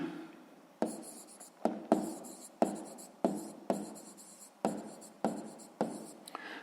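Pen strokes from writing numbers by hand during a sixth-grade maths exercise, a series of about nine sharp, scratchy strokes in a steady rhythm, close and fairly quiet, with no talking.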